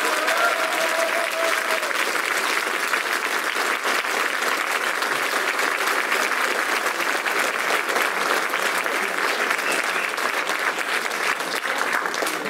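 An audience at an evening event in Toulouse applauds and cheers steadily, a dense and sustained wash of clapping heard close and loud throughout.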